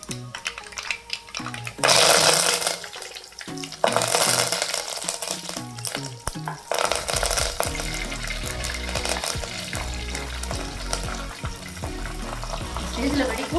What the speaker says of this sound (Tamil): அடுத்ததாக வந்து நம்ம எடுத்து வச்சுருக்கிற கறி லீவ்ஸும் க்ரீன் சில்லியும் ஆட் பண்ணிடலாம்.